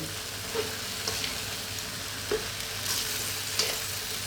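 Ground beef and bean sprouts fry with fish sauce, pepper and salt, a steady sizzle broken by occasional spatula scrapes and knocks as the mix is stirred.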